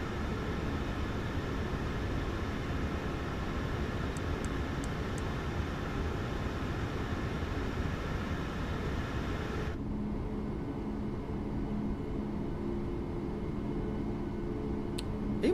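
Airliner in Microsoft Flight Simulator 2024, an iFly 737 MAX 8 at Washington DCA, a steady loud engine roar and broadband rush holding throughout, dropping in tone partway through as the takeoff run continues.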